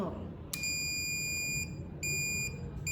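A shrill electric buzzer, switched by a push button through a PLC, sounds in a steady tone, cutting off briefly and starting again a few times over a low background hum.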